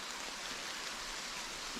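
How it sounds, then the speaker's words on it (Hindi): Heavy rain pours steadily, a soft, even hiss without breaks, heard from beneath a tree used as shelter. "इतनी तगड़ी बारिश आई, इतनी बारिश हो रही है, इतनी बारिश हो रही है।"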